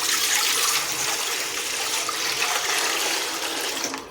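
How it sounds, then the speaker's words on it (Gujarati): Water pours into a cooking pot on the stove in a continuous, loud, close gush that lasts about four seconds before trailing off. "એમાં આપણે એક તપેલીનું માપ પાણી લઈશું।"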